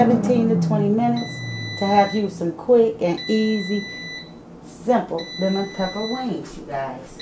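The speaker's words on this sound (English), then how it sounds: "Excuse the beeping." A kitchen appliance beeps in a home kitchen where lemon pepper wings are cooking, giving repeated steady high-pitched tones in several short bursts behind continuous talking.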